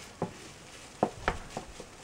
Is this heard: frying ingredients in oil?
yes